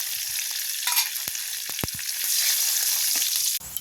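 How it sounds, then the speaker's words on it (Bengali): Whole spices for tempering, including panch phoron, dried red chilies, bay leaves and cardamom, crackle in hot oil for a tarka dal, a loud continuous sizzle with a few sharp pops and spoon taps. "দিয়ে পাঁচ ফোড়ন দিয়ে দেবো গোটা শুকনো লঙ্কা তেজপাতা ফোড়ন দিয়ে দেবো"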